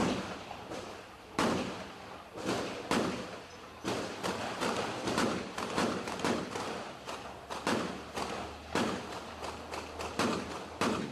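Gunfire in Rio de Janeiro rings out as repeated sharp bangs at irregular intervals, some in quick bursts, echoing at a moderate distance.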